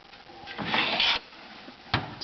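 A tool box junk drawer sliding open with a scraping rub of metal or wood, a short grinding pull followed by a brief bump, close and alone.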